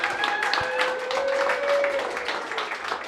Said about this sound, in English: Round of applause for Christiana